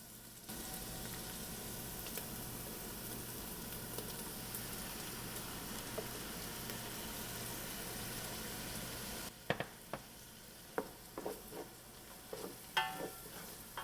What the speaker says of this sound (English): we're deglazing the pan